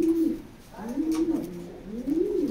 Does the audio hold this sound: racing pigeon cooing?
yes